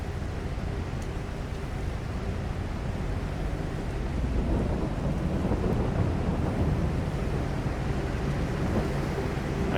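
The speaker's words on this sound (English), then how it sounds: "And the rain still has not stopped." Steady rain with low thunder rumble in the farming game Farming Simulator 22: a dense, constant wash of noise with deep rolling undertones, even and unbroken throughout.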